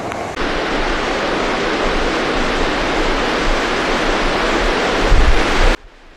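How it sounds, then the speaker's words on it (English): Floodwaters rush through homes and roads during mega flooding in Guangdong Province, China, a loud, constant roaring wash that runs unbroken before cutting off abruptly near the end. "Entire districts were overwhelmed as water poured through homes,"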